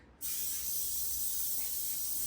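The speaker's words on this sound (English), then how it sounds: "I'm going to just take some of this olive oil spray" Olive oil cooking spray is misted onto a pan in a kitchen as one loud, steady hiss that starts abruptly and runs on unbroken for about two seconds, with no voices.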